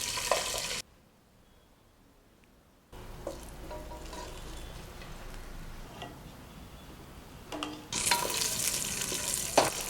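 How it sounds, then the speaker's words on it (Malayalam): Cashew nuts roasting in ghee for pumpkin payasam, a soft close sizzle that cuts out briefly, returns as a steady low crackle and swells into brighter frying hiss with stirring near the end. "ഇനി നമുക്ക് അണ്ടിപ്പരിപ്പ് വറുത്തെടുക്കാം."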